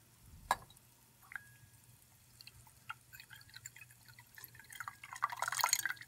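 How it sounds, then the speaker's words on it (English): Ice water pours into a laboratory beaker: a sharp drip near the start, scattered small splashes and trickles, then a louder burst of pouring and sloshing toward the end, all fairly faint against a low background hum. "we'll add some ice water to this beaker, hopefully just water and not too much ice"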